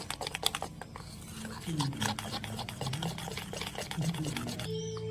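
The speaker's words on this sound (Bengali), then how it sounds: "এখন ইনে দিয়ে ভালোভাবে ব্যাটাটা ফেটিয়ে নেব" Jalebi batter with Eno being whisked by hand in a bowl, a rapid, steady clatter of whisk strokes against the sides, close and continuous, while a voice talks over it.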